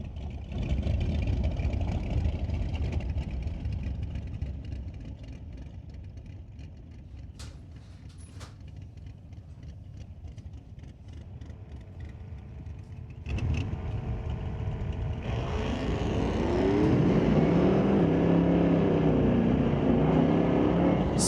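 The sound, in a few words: 2024 Ford F-150 drag racing off the line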